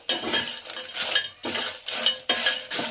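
Spices for avare bele sambar fry in a pan, with loud rhythmic spoon scrapes and metal clinks about every half second over a soft sizzle, close and without talk.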